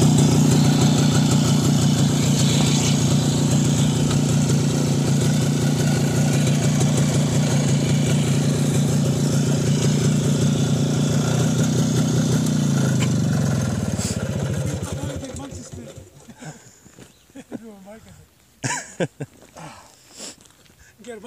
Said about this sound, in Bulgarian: Той запалил някакъв мотор там. Той си работи.